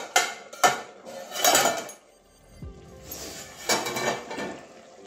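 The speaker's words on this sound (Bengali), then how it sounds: "এবারে ঢাকনাটা খুলে নিচ্ছি।" A lid comes off a cooking pot holding Bengali cauliflower-stem curry with potato and eggplant, giving several sharp metallic clanks and scrapes close by, then a brief pause and another burst of clattering cookware.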